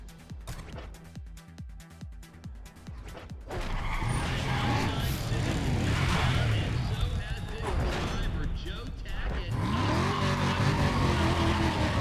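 Race cars in the Need for Speed ProStreet video game roar and skid, engines revving through shifting pitch sweeps with loud tire squeal, starting choppier and then building into a sustained, aggressive drone.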